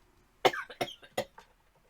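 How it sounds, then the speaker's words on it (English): Three short, close coughs come in quick succession from someone who is unwell, each a sharp burst followed by a brief raspy tail, in an otherwise quiet room. "Sorry for the coughing."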